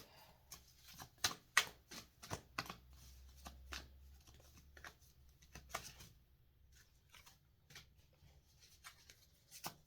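Tarot cards being shuffled for a card pull, a quiet run of soft irregular riffling taps and flicks, faint and close, with no talking.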